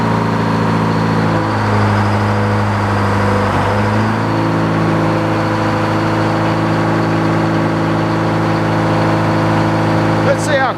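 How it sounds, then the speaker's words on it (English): Engine on an old circular sawmill cutting a poplar log settles into a steady, loud mid-pitched drone with a shift in tone early on, running close throughout while a person talks over it. "I'm going to go start the engine."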